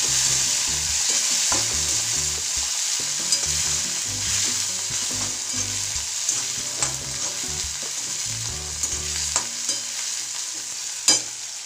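Chopped tomato sautés in a hot pan, giving a steady, loud sizzle and spit the whole way through, broken by soft scrapes and stirring clicks of a spoon against the pan, with no talk.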